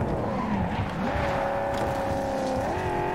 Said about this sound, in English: It's fine, we're out here drifting.